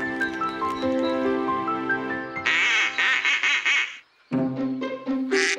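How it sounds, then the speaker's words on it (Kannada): Cartoon ducks quack in a children's animated story, with several nasal calls over a busy bed of tonal music that drops out briefly near the end. "ಆ ಶಬ್ದನ ನಾವು ಕ್ವಾಕಿಂಗ್ ಅಂತೀವಿ"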